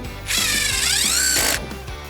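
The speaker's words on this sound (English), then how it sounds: "Okay, let's screw those two and that's it." A power driver spins and ratchets as screws are driven to fasten studs to skids, one loud continuous burst of about a second and a quarter, with lighter mechanical clicks before and after; no speech.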